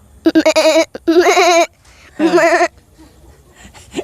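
A young boy imitates a goat's bleat with his voice, giving three wavering, nasal calls with short pauses between them, close and loud, with quiet background sound afterward.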